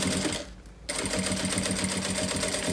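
A sewing machine stitches a fabric pencil case up close, a fast, steady mechanical whir with one short pause before the stitching carries on.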